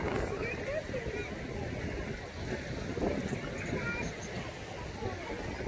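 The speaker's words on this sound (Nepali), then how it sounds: "बाप्रे कस्तो हावा आएको हावा त सरररररर हावा त" Strong sea wind buffets the microphone at Larnaca beach, a steady broadband roar with gusting swells and surf beneath it, while people talk nearby.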